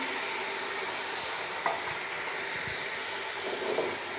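Tomatoes fry in a pan with a steady, hissing sizzle and a few soft stirring knocks, moderately quiet and close, with no talking.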